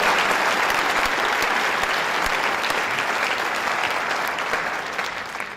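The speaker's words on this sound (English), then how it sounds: "give a big round of applause to General Murphy and the National Guard" An audience applauds the National Guard at a civilian preparedness training event in Farmingdale, a thick even wash of clapping that holds steady for over five seconds and eases off slightly at the end.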